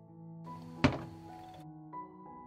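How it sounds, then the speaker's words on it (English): A pot of jars in water is set down on a stove with a single heavy thunk, close and brief, against steady background music and no talking. "I put the pan down on the stove."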